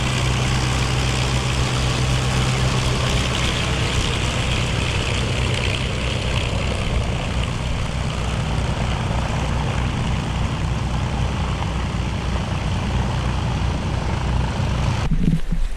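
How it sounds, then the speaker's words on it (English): An Avro Lancaster bomber taxiing, its propeller engines producing a steady, loud droning rumble that holds for about sixteen seconds, with a brief rise in intensity near the end. "I got some shots of Lancaster taxiing"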